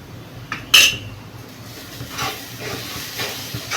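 Eggplant and chana dal frying with spices in a pan, a soft hiss under a few clinks of a utensil against the pan, one sharp knock near the start, no talking.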